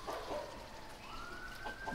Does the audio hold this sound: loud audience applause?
no